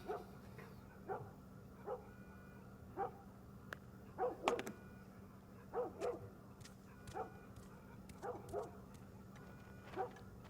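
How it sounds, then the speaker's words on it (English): Dog barking in The Last of Us video game, a steady run of about a dozen moderate barks and yips spaced roughly a second apart, somewhat distant over a low hum. "Dogs be barking."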